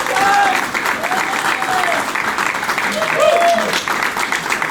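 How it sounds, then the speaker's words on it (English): An event audience applauds Jennifer Green at a youth entrepreneurship challenge, steady dense clapping filling the room for several seconds, with a few voices and whistle-like tones rising above it. "Clap it up for her."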